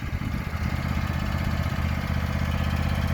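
A riding lawn mower with a Kawasaki engine runs at a steady, close-up idle, its low, even drone continuing without pause and with no talking.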